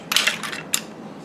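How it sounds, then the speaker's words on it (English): Clams stirred in a pan give quick metallic clinks and rattles of shells against the pan, two short bursts close up with a quiet pause between. "Stir that around a bit."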